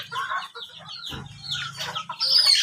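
Rainbow chickens on a village free-range poultry farm cluck and squawk in a steady, overlapping stream, with a few sharper, higher calls near the end, close and moderately loud.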